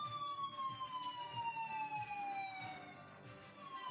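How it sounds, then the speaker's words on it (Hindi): A Saudi Aramco general emergency evacuation alarm: a loud, steady electronic wail on its own, its tone sliding slowly downward without a break. "सामान्य आपातकालीन निकासी अलार्म"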